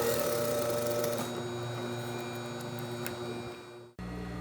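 A sewing machine top stitches along the folded edge of a fabric bodice, running in one continuous close hum with a steady mechanical buzz, cutting off abruptly near the end before resuming.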